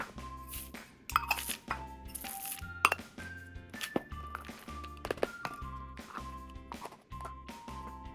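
Mixed nuts and soaked tangerine peel for a savory Vietnamese mooncake filling being combined in a large bowl, heard as repeated close clinks and taps of a utensil against the bowl over soft background music.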